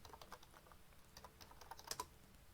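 Someone types a password on a computer keyboard in quick, soft, irregular keystrokes, close and quiet, ending with a couple of firmer presses.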